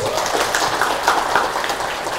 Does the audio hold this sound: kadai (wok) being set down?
no